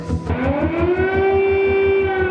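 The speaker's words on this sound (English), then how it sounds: "Sirens, wailing, and explosions heard in major cities." A loud, continuous siren with a low wail sliding upward and holding steady, under a rapid pulsing throb.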